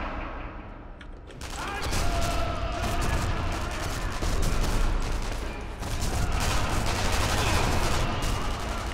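Gunfire in the video game Sniper Elite V2, sustained rapid bursts of shots and booms continuing for several seconds with faint voices underneath.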